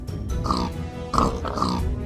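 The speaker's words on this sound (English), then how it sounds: "some pigs walked up to me." Minecraft pigs oink and grunt up close in a short run of repeated snorty calls, with a steady game background underneath and no talking.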